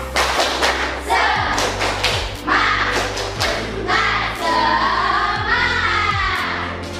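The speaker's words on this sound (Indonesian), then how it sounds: "Semuanya tepuk semangat" A classroom of students does the tepuk semangat spirit clap, rhythmic group clapping and thumping in patterned bursts with shouted chanting voices, loud and close.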